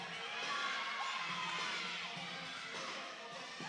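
A gymnastics meet in an arena, Eastern Michigan at Central Michigan, with a coach and crowd cheering a freshman on the balance beam. Steady, moderately loud shouting and cheering from a distance fills the clip, with voices blending throughout.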